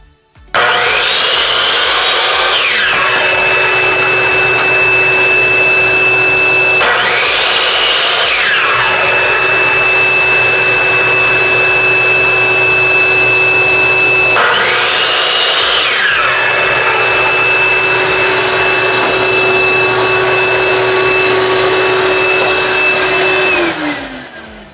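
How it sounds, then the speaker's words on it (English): A shop vacuum switched on automatically with a miter saw runs loudly and steadily for about 25 seconds, while three rising and falling sweeps of the saw's blade cut through it. "And the vacuum turns off automatically."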